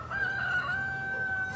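A rooster crows outside a window in the morning, one long sustained cock-a-doodle-doo call, clear and fairly close, with no talk over it.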